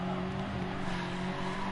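Race car in the GT Sport video game, GR4 class at Red Bull Ring, braking late into a corner: a steady engine drone with faint tyre scrub running the whole time, no voices.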